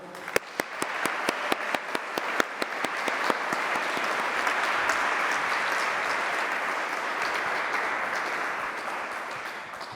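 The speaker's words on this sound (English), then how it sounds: "Please give a massive, massive round of applause to Gina Gardner" Audience applause for Gina Gardner at a talk: a large crowd clapping loudly, opening with a few distinct sharp claps that quickly merge into a dense, sustained roar of hands lasting the whole stretch.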